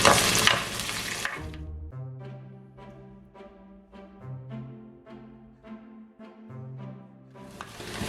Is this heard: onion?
yes